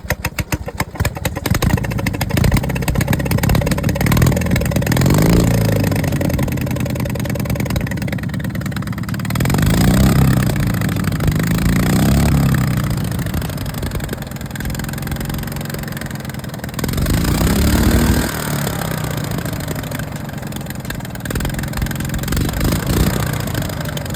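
A small carburetted engine, primed with a shot of fuel into the carburetor, catches and runs loud and close, its uneven idle rising and dipping in several revving surges over about twenty seconds.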